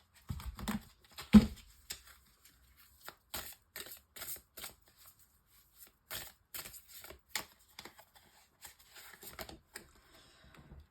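Tarot oracle cards being shuffled and handled, a scattered series of soft papery flicks and taps, quiet and close, with short pauses between bursts and no talking.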